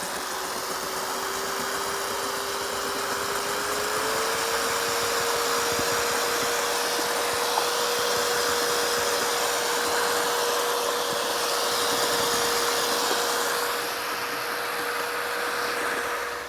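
A mixer drill whirs steadily and loudly while blending Skraffino White Fine concrete overlay tinted charcoal suede, its motor tone rising slightly early on and then holding an even pitch.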